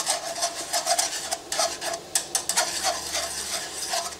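A spoon stirs a sugar mixture, making rhythmic scraping and rubbing strokes against the bowl, repeated steadily at close range without talk.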